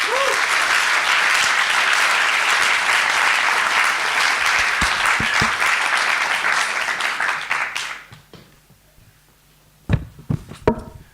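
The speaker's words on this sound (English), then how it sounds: "I would like to ask you for a warm applause for all our funders, partners, and the entire IMPAKT team." Warm audience applause for funders, partners and the IMPAKT team at the festival's opening programme, sustained and dense for about eight seconds before dying away into scattered claps and room noise.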